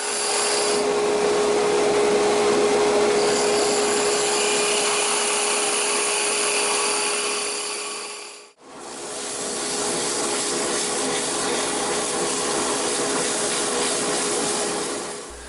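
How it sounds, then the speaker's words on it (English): Fine sandpaper, 80 to 320 grit, rubs a small wooden clock spindle by hand with a continuous raspy hiss, over a constant loud whine of a dust collector that briefly cuts out and restarts. "I went through lots of little pieces of sandpaper"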